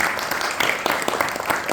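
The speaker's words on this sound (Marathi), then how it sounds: "त्यामुळे जोरदार टाळ्या" An audience at a Marathi cultural programme in Dallas claps in a brief burst of applause that lasts under two seconds, with dense overlapping claps at moderate distance.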